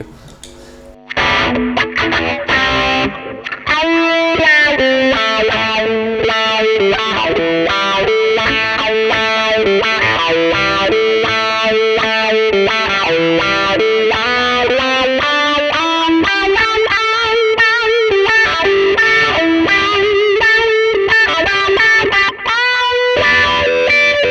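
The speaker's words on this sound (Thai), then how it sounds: "แล้วก็กดมาเป็นเสียงแตกนะเหมือนนี้ผมใช้แค่นี้" Heavily distorted electric guitar through a Valeton GP-5 effects unit plays sustained chords and riffs, loud and thick with fuzzy overdrive, continuing steadily throughout.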